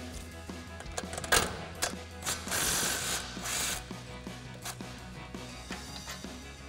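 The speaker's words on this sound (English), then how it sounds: "we're gonna have to grab a 19 millimeter socket to remove these two caliper cage bolts" A socket wrench with a 19 mm socket loosens the caliper cage bolts on a Toyota Tundra's brakes, making close, loud ratcheting clicks in quick bursts and longer runs, with metallic clatter between them and no voices.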